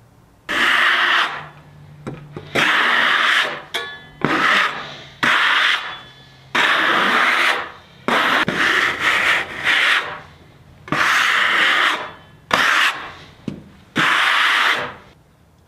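A Wood-Mizer sawmill band-saws walnut slabs outdoors at night, with double crotch figure in the log. Loud, close broadband cutting noise comes in repeated bursts of a second or two, separated by short pauses.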